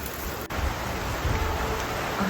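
Rain falling outdoors during heavy rain in Nagasaki, a steady broadband hiss that runs unbroken for a couple of seconds with a brief dip near the start and no talk.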